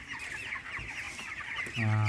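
Broiler chickens 23 days old cluck and murmur in a poultry house at feeding time, a busy overlapping flock chatter with one louder nearby call at the end.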